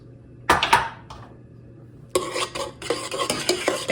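Cool apple juice stirred into a hot strawberry fruit mixture in a pot taken off the heat, for reduced-sugar strawberry jam: a pair of scraping clinks, a pause, then steady, busy spoon-scraping and sloshing close by.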